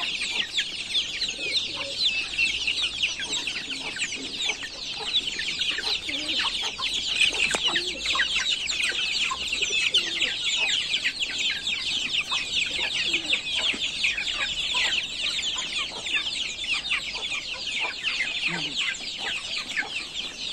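Young chicks feeding on spinach chirp and peep constantly in a dense, close chorus of high calls, with soft pecking and faint background noise underneath.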